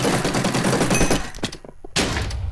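Rapid gunfire in a Minecraft shooting minigame server, a dense burst of shots that breaks off briefly and then starts again, loud and close, with no talking.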